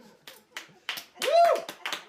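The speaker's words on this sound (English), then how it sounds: "Thank you for clapping." A few scattered claps ring out from a small audience at a comedy set in a home, sparse and uneven, while a voice briefly calls out over them.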